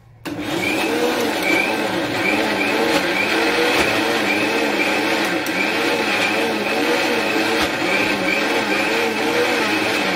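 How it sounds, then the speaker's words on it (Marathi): A kitchen mixer grinder churns a small batch of cream to separate out butter, a loud continuous motor whine with a pulsing rotational wobble that starts abruptly and runs steadily without any voices. "अशा पद्धतीने ना थोडस आपण असं मिक्सर मध्ये घ्यायचं काढून"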